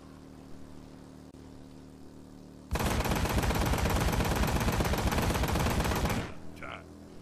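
Sustained automatic gunfire in the video game Road to Hell: Retribution, a loud rapid stream of shots lasting several seconds before cutting off, with quieter room tone on either side.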